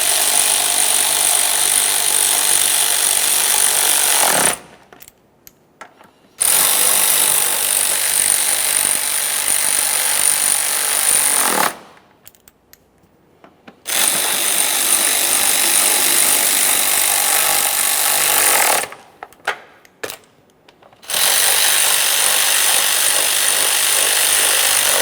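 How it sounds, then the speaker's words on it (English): Power tool driving 8mm mounting bolts on a 1994–1997 Honda Accord, three loud sustained whirring runs separated by short near-silent gaps, heard up close, no talking. "you want to make sure you tighten all 4 of your 8mm headed mounting bolts"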